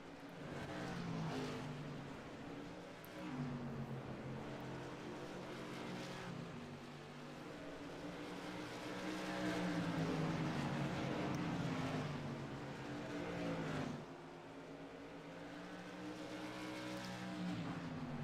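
SK Modified stock cars race at South Boston Speedway in the iRacing sim, engines droning in layered, continuous tones that swell and fall as the pack circulates, with no talking.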